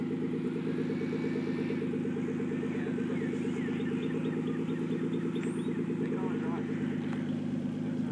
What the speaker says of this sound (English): It's time to rev her up a little bit.